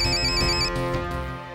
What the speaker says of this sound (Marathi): फोन कुणाचा असत?